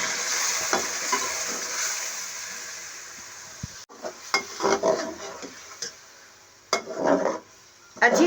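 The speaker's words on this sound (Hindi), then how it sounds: "अच्छी तरह से अब इसकी भुनाई करेंगे और प्याजों का कच्चापन दूर होने तक इसको अच्छी तरह से भूनेंगे" A paste of tomato, onion, green chilli, garlic and ginger fried and stirred in a pan for okra and peas masala: a soft sizzle at first, then repeated spatula scrapes and clanks against the pan in uneven bursts.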